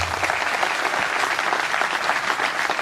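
An audience at a public gathering in eastern Congo bursts into loud, sustained applause, dense clapping that stays steady from start to finish with no voices above it.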